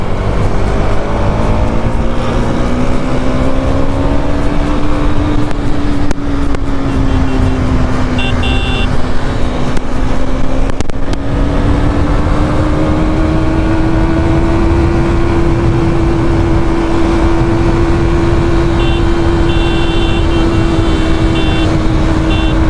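A motorcycle ridden on the road to Dhurwa Dam while doing wheelies, with a loud, close, continuous engine drone whose pitch slowly rises and falls under heavy wind buffeting and no speech.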